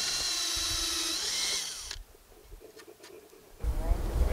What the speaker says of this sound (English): drilled 1/4-inch holes on each corner and one in the center